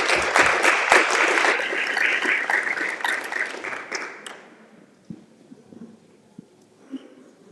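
An audience applauds a keynote speaker walking onto the stage at a parent summit, with dense clapping that thins out and fades to a few scattered claps and room noise.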